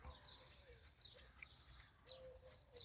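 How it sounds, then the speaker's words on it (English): Small bird calls from the peak of a shop roof, complaining at a hawk perched nearby, with faint scattered chirps over a quiet outdoor background. "a hawk sitting on top of the shop with a little bird on the peak complaining to it"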